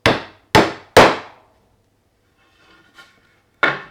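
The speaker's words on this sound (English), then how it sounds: "it's got a wee nail in it and a couple of holes, but we can fill those, so let's take the nail out" Prying a small nail out of a piece of painted pine with a hammer: three sharp, ringing knocks in quick succession, then a soft scrape and a faint tap, and a final knock, close and loud.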